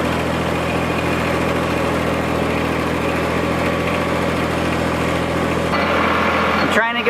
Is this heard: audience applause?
no